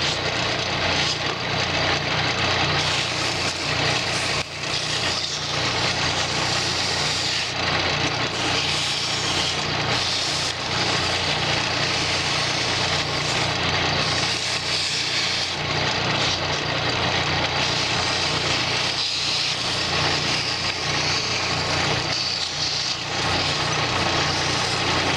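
Wood turning on a lathe being sanded with 400 grit abrasive, a loud, steady broadband whir and hiss that runs without a break for the whole stretch, with no voices.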